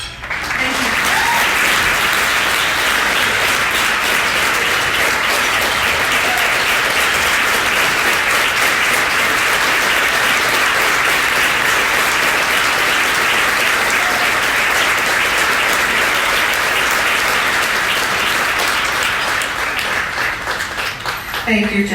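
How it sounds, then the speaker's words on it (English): Loud, sustained audience applause at an annual meeting, a dense steady wash of many hands clapping for about twenty seconds before it tapers slightly at the end. "So give yourselves a round of applause"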